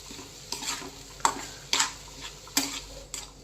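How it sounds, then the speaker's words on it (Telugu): Ginger garlic paste sizzling in a pan with a soft steady fry underneath, broken by several sharp spatula scrapes and taps against the pan at irregular intervals, close up. "one spoon ginger garlic paste, ఇది కూడా కొంచెం పచ్చివాసన పోయేంత వరకు ఫ్రై చేసేసుకుందాము"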